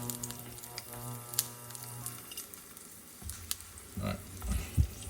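Oil heating in a pan for crispy-bottom crawfish and pork dumplings, a quiet sizzle and light crackle with a steady hum, then some clatter and louder pops near the end.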